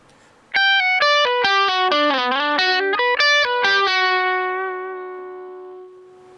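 An electric guitar through a Bias Mini amp with reverb plays a quick run of distorted notes, then lets a final chord ring out with a long reverb tail fading away.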